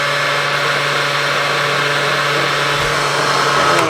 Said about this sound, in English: it's an old trusty blender here that we are rocking it and rolling with here on set.